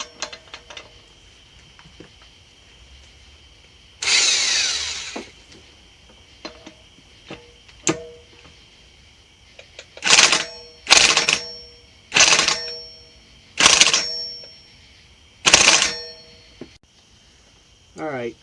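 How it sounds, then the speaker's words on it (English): Rapid bursts of an impact wrench fitted with a 22mm impact socket, working a rear wheel bearing retainer on a Honda CR125: about six loud hammering bursts, each about a second, separated by short pauses and scattered clicks. "I'm going to try the impact slowly. I'm going to use a 22mm impact socket that fits over the top of this"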